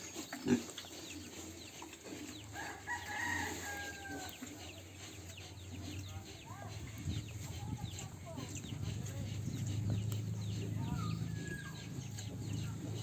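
Pigs grunt and snort at close range amid a busy farmyard on a Philippine pig farm, with chickens clucking and a voice speaking occasionally in the background.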